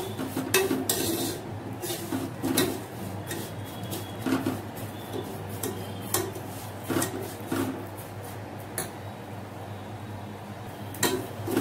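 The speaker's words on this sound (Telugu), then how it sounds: "సిమ్ లో ఉంచి ఇలా తిప్పుతూ కుక్ చేసుకోండి" Semiya being stirred and fried on low heat in a pan gives a steady scrape and clink of spatula against the pan, repeated strokes over a low background hum, with no talking.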